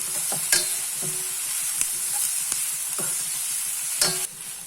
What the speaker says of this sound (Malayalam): കറിവേപ്പില, മല്ലിയില, മഞ്ഞപ്പൊടി. ഇനി ഇത് നമുക്ക് നന്നായിട്ട് വഴറ്റണം.